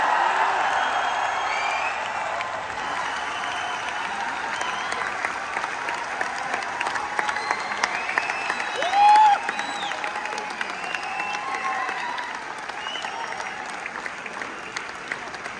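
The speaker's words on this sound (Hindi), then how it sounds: "एक बार जोरदार ताली हो जाए" Loud, sustained applause from a large crowd at a Forever Living Products success event in Delhi, honouring the person whose decision changed many lives; steady dense clapping throughout, with a brief cheer or whistle partway through.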